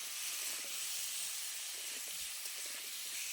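Potatoes and spiny gourd fry in oil with salt and turmeric, a soft, continuous hissing sizzle at low level throughout, with no voices.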